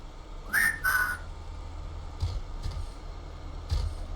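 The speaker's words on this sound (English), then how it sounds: "I, whistle at the computer's microphone. The audio signal has the code in it." A robot in Wasteland 3 whistles a code into a computer microphone: two short rising whistled tones near the start, then faint soft clicks over a low hum.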